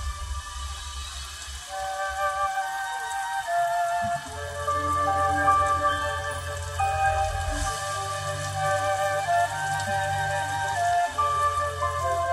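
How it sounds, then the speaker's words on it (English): Steady rain patters on a surface, with a low rumbling bed underneath and faint tonal lines drifting through, continuous and moderately loud throughout. "And the rain pours down."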